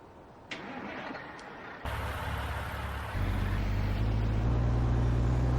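A truck engine starting in the Farming Simulator 19 video game, a few faint clicks, then the starter kicks in and the engine catches into a steady, loud low idle hum.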